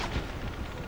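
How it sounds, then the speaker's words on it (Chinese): A metal barrel explodes in the video game Enslaved, a short, dense boom with a rumbling low end that fills the whole moment at moderate level. "那个会爆炸哦！"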